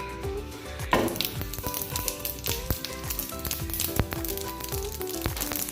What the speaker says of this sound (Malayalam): പാനിൽ വെളിച്ചെണ്ണ ഒഴിച്ച് ഒരു സ്പൂൺ കടുക് പൊട്ടിക്കുക